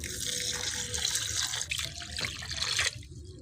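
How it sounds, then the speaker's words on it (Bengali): Water poured from a vessel onto basmati rice set to soak, a continuous close splashing and gurgling stream that shifts in pitch and then tapers off at the end. "জল ঢেলে দিচ্ছি চালের মধ্যে।"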